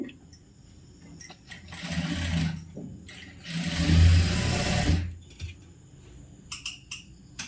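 A sewing machine stitches lining cloth in two runs, a loud steady whirring hum with short starts and stops, light clicks of the mechanism in between.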